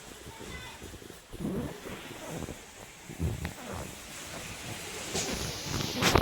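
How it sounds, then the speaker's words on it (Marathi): Heavy rain pours outside over a flooded field, a steady broadband hiss running throughout with voices talking over it. "पाऊस एवढा जोरात सुरू आहे ना बाहेर"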